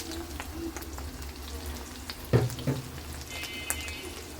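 Food fries quietly in a pan at home, a low steady sizzle with a couple of sharper clatters from stirring or utensil contact near the middle.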